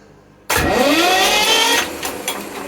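A vintage Russell Newbery diesel aboard a narrowboat fires up abruptly after a quiet moment, settling into a loud, steady close-up chugging run that eases slightly in level toward the end.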